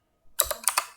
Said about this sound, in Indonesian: kita ketik no s